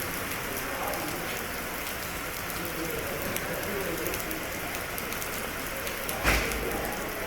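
Heavy monsoon rain falls steadily in Sirsa, Haryana, a dense, even hiss of drops on surfaces that holds for several seconds, with one brief knock partway through.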